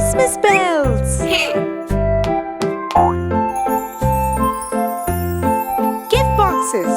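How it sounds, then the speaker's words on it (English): Christmas bells in a children's counting cartoon jingle and ding in a bright, repeated sequence over a bouncy musical backing, loud and close with short tinkling hits throughout. "Christmas bells. Four Christmas bells."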